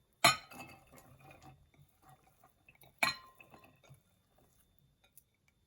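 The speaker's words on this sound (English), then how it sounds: "first, I'm going to add in the onions in my mixing bowl" Two medium sliced onions tipped into a mixing bowl, with two sharp clinking impacts against the bowl each followed by a spill of lighter rustles and taps, close and fairly quiet with no talking.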